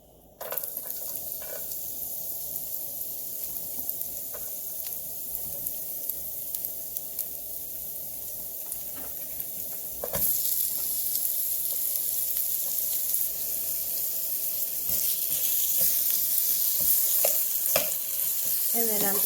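Garlic and onion frying in a pan for keto chicken chipotle give a continuous crackling sizzle that grows louder partway through, punctuated by occasional stirring knocks and scrapes.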